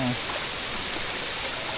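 Steady broadband rush of water pouring at Batlag Falls in Tanay, Rizal, a constant close wash of falling water filling the whole moment with no clear voices.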